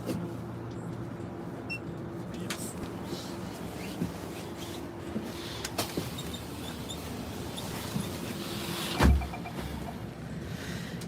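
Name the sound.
inside a moving bus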